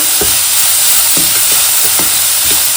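Tomatoes with salt sautéing in a pan for beans poriyal, a loud steady sizzle with a few soft stirring scrapes, no voices.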